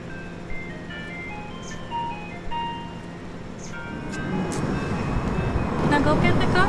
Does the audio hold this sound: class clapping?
no